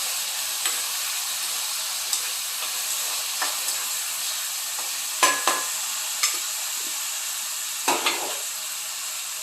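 Paneer butter masala ingredients are stirred in a frying pan over a soft continuous sizzle. A utensil scrapes and clinks against the pan in scattered strokes, a few of them sharper and louder, with no voices.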